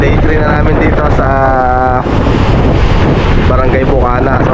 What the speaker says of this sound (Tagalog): Grabe, ang lakas ng hangin maghapon magdamag, walang tigil.